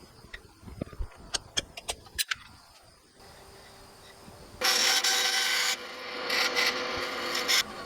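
A wooden slat for a Morris chair has its end cut off, heard as a series of sharp knocks and taps followed by a loud, steady rasping cut that pauses briefly and resumes, close by and with no talk.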